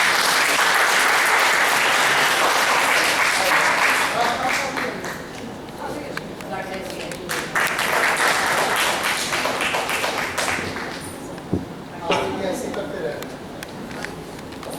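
Loud, sustained audience applause fills a college hall during a legal awareness program certificate ceremony, swelling and dipping in waves with scattered voices and cheers mixed in throughout.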